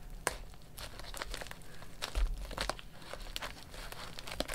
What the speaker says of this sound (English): I'm gonna be somewhat careful cutting it open